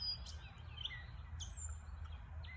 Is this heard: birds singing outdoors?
yes